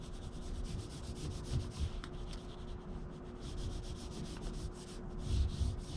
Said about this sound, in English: I have a oil pastel, and just draw myself a stem.